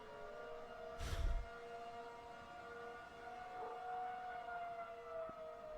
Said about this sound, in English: you're getting like a couple sirens that are rotating around, little Doppler effect action